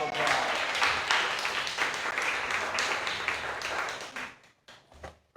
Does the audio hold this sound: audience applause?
yes